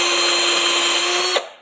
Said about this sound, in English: Let's put this hardwood in the vise, and we'll drill in it with hardened steel.